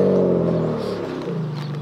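A car engine revs hard during drag races at an army base, a low steady roar of strong harmonics that eases off partway and settles into a lower drone, loud and close with no one talking.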